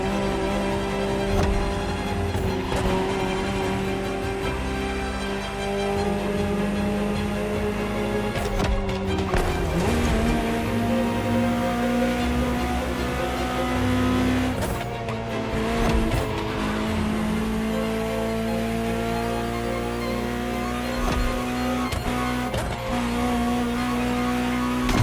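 A high-revving Ferrari supercar engine drones continuously with gear shifts, tire squeals and skids, sounding like fast racing laps, in the video game The Crew Motorfest.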